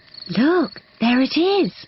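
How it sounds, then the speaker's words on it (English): Crickets chirp at night in a cartoon nature scene, a faint, continuous high trill running beneath a person speaking. "That is the sound of crickets chirping."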